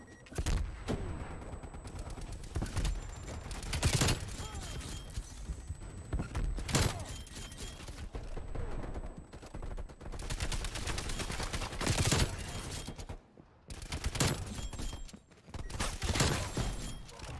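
EM2 rifle firing in a first-person shooter match, repeated loud bursts of rapid automatic shots separated by short gaps, with occasional quieter game noises between volleys.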